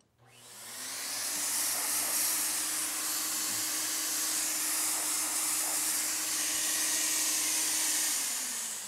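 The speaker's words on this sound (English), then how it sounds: "What I do is I turn the gun on, I spray a wall, I spray some cardboard, some test surface" A spray gun sprays Plasti Dip onto a test surface, a steady loud hiss from a running motor that starts abruptly and holds evenly, with no talk.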